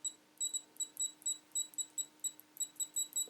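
Faint, high-pitched continuity beeps from a Flir CM46 current clamp meter, chirping in quick, evenly spaced short pulses with no talking.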